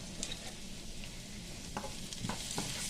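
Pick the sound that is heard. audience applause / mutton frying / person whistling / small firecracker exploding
mutton frying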